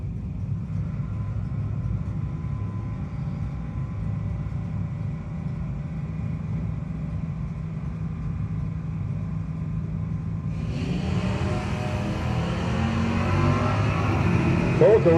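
Drag race between a Chevrolet S10 and a Mopar car at a no-box 660 shootout, a steady loud engine drone joined around the tenth second by a louder, brighter surge of racing engines, with a voice talking over it.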